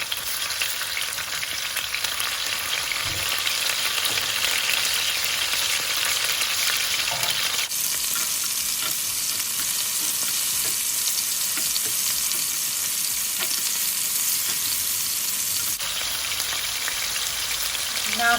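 Shredded chicken taco filling fries steadily in a pan, a dense, continuous sizzle and crackle close up, with a brief shift in tone partway through and no voices.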